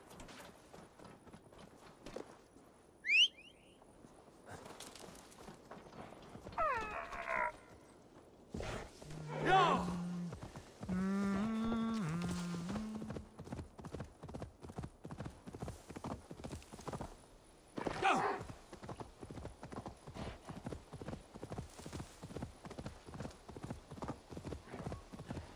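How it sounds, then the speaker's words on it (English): Horse hooves clip-clop in a steady galloping rhythm in the video game Assassin's Creed Valhalla for a long stretch, with a neigh and brief voices breaking in partway through. "mount your horse and take a short ride north into the forest"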